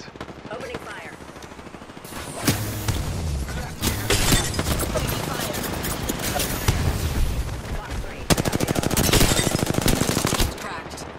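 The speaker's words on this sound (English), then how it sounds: "I'm taking fire. Contact with target. Opening fire." Rapid bursts of automatic weapon fire in an Apex Legends match crackle loud and close, with sharp single shots and dense volleys stacking up, and a voice speaking between them.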